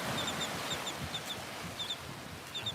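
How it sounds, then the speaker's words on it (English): Resident shorebirds hatched in June call at a Florida beach, a few short high chirps repeating in pairs and clusters over a steady roar of surf and wind. "There's the resident birds."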